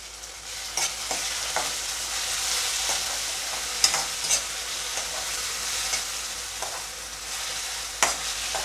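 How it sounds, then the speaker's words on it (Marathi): Onion sautéing with curry leaves and ground masala paste in a pan for cabbage and chana dal bhaji, a continuous close sizzle with scattered spatula scrapes and a few sharper clinks, with no talk. "आता मी जे वाटण बनवलं होतं ते टाकून घेते।"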